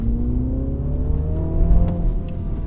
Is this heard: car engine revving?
yes